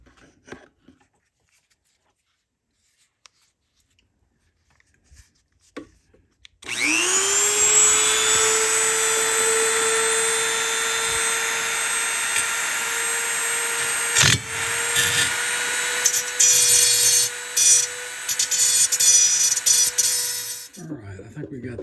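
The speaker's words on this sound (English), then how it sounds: "So let me get a drill and get a hole started there, and then I'll see if I can use a Dremel tool" A drill and then a high-pitched Dremel rotary tool open up the muffler port on a Husqvarna 550XP Mk2 chainsaw, with a continuous loud close whine that briefly dips and resumes before stopping.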